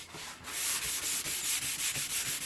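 A 220 grit sanding pad held flat rubs back and forth across a skateboard deck in quick, steady strokes, a close, dry, rhythmic scratching with no talk.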